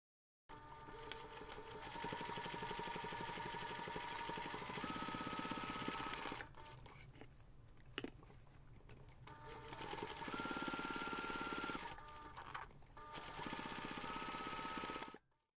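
Sewing machine top stitching along two folded fabric edges of a small jewellery pouch, running in steady whirring bursts with brief pauses between passes, close and fairly loud, no talk.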